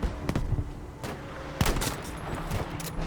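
Bursts of gunfire in Battlefield V, aimed from a distance at enemy turret gunners: several separate volleys with sharp single cracks spaced across a few seconds, over steady battlefield rumble.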